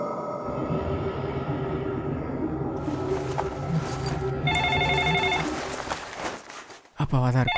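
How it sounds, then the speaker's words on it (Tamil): An indoor telephone rings with repeated electronic bell tones over a low rumble, the pattern shifting partway through before it abruptly cuts off near the end. "ஃபோன் எடுங்கப்பா."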